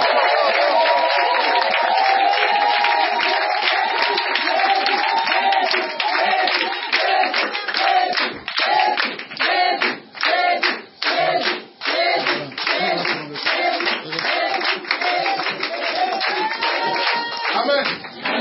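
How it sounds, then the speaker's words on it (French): A church congregation clapping and cheering to acclaim Jesus, loud rhythmic applause with crowd voices and shouts throughout, swelling and fading in bursts. "Est-ce qu'on peut acclamer"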